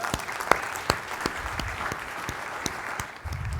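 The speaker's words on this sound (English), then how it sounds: "would you mind if I got a round of applause to bring some people up?" A round of applause from an audience at a company presentation, steady dense clapping with a few sharp claps standing out, close and full throughout before thinning slightly near the end.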